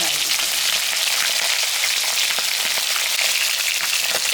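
Fish sizzles in a pan of oil near the end of frying. A dense, loud hiss is broken by scattered sharp pops and spits, with no voices over it.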